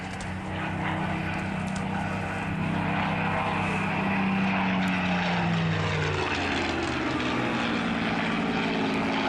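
A Spitfire of the Battle of Britain Memorial Flight roars past during a display at Duxford, its propeller engine loud and sustained, with a drone that swells and then falls in pitch as it passes.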